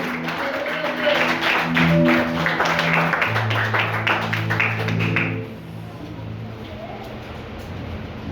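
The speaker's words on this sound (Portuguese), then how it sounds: "Dê uma linda salva de palmas ao Senhor Jesus." A church congregation applauds in a loud, dense burst of clapping over sustained low tones, which fades into quieter room sound after about five seconds.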